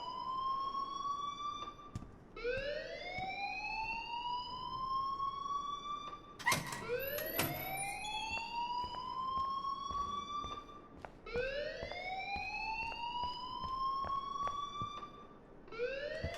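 A wailing alarm rings in the Life is Strange video game, with long rising electronic sweeps that repeat steadily over about sixteen seconds, with a brief burst of noise midway.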